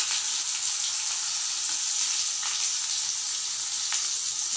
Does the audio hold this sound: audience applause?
no